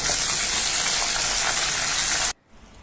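Shallots and dried chillies sizzling in hot oil, a steady close broadband frying hiss that cuts off abruptly near the end, leaving quiet.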